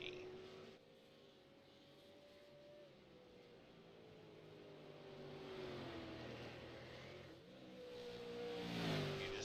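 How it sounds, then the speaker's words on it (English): A race car engine in the iRacing sim at Lime Rock holds a steady drone, then revs up sharply as the car crests a rise near the end, loud and continuous with no talk over it. "Heard the car rev as it hits the top of the crest there."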